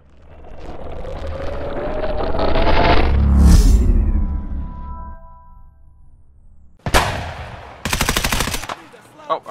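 Automatic gunfire in the Escape from Tarkov video game, with a sustained roar of shots and muffled booms early on, then two sharp, loud rapid bursts near the end, faint voices underneath.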